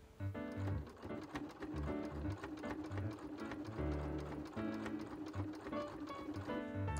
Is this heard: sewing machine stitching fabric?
yes